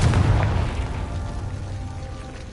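A heavy magical blast from the Bombarda and Confringo spells in Hogwarts Legacy booms at the start, then rumbles and fades over about two seconds, loud and close with no talking.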